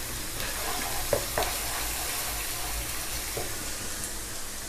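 Ginger, garlic and pomegranate seeds fry in a pan with a constant soft sizzle, broken by a couple of brief clinks or stirring knocks near the start.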